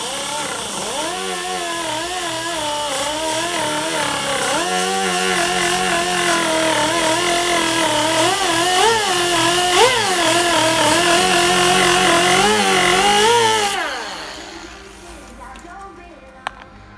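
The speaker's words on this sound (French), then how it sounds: "Donc là, on décape la zone avant de tirer la tôle." A power tool strips paint from a Peugeot 406 body panel, grinding loudly and close with a wavering pitch that rises and dips as it is pressed against the metal, then winds down to near silence.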